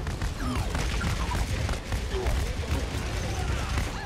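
Bursts of rapid Overwatch gunfire crackle continuously amid a busy mix of in-game effects and background noise, with a voice faintly audible underneath.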